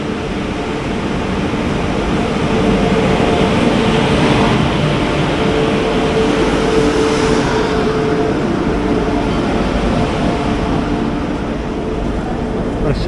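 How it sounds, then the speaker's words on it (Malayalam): The Prasanthi Express passes close by, a continuous loud rumble and rushing roar of rolling railcars that holds steady for over ten seconds with faint rhythmic clatter and brief tonal whines within. "പ്രശാന്തി എക്സ്പ്രസ്"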